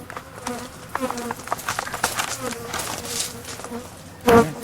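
Bees hum and buzz in a low drone with shifting pitches, mixed with background noise and a brief louder burst near the end.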